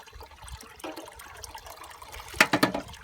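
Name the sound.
liquid squirted into container of muddy water, bubbling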